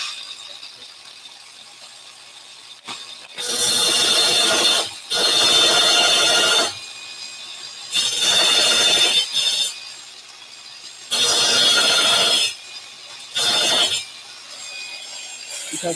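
A cutting disc not meant for tile grinds against a tile in five loud, harsh bursts of a couple of seconds each, separated by short pauses with only a faint hum between.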